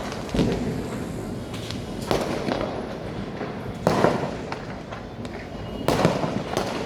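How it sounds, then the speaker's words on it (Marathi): Diwali firecrackers burst one after another, heard from a terrace, four sharp bangs spaced a couple of seconds apart, echoing at a moderate distance over a low background hum. "बघा कशी फटाके वाजत"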